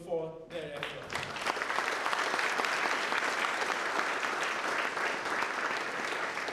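An audience at an architecture exhibition inauguration in a gallery breaks into applause after a brief voice at the start, a dense, steady clapping that carries on evenly to the end.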